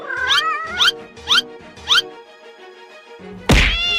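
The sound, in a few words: cartoon cat yowling as it is hit by bicycle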